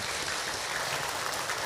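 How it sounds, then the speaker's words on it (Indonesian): Audience applause at an Indonesian Islamic lecture, a steady dense wash of clapping from a hall crowd that fills the whole moment at even loudness with no talk over it. "Tepuk tangan Ibu untuk Hilman."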